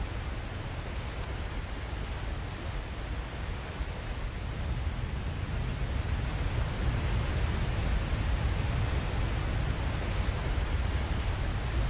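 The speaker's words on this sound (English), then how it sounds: "Sorry, I can't hear you over the sound of the waterfall." A waterfall in the video game Satisfactory, a continuous broad rushing roar of falling water, steady and close, with no talk.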